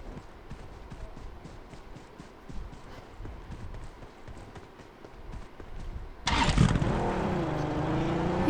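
Car driving in a video game: a low rumbling engine and road noise under busy game ambience, then a sudden louder whooshing rush of the vehicle sound near the end.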